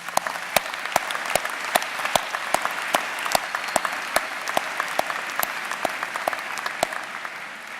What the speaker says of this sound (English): Please give your student leaders a round of applause.